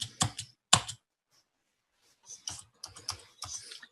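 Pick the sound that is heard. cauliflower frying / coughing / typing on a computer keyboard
typing on a computer keyboard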